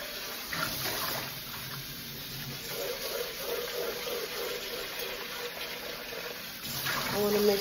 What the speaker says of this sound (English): So I'm gonna rinse out my bucket and start with the red.